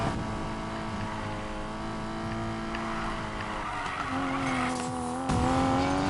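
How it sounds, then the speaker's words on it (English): In the racing game Need for Speed Payback, a Porsche GT4 takes a corner on the handbrake at about 140 km/h, with a steady loud engine roar whose pitch shifts and climbs near the end and a hint of tire squeal. "Happened to hit the handbrake around that corner, just doing about 140 plus kilometers an hour around the corners here"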